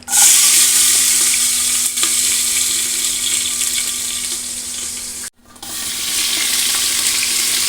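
Mustard seeds, ginger and garlic frying in hot oil for a chickpea curry, a loud continuous close sizzle with faint stirring, briefly dropping out twice before resuming.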